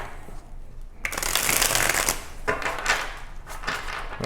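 A deck of tarot cards gets shuffled up close, quiet handling giving way to a loud, sustained riffling rush that breaks into a few shorter flutters and taps.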